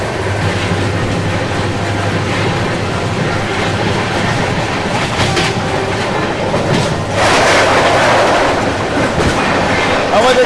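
Awadh Express train departing after an overtake near Nagda Junction, with steady clickety-clack of wheels and a rumbling rail roar that swells louder toward the end.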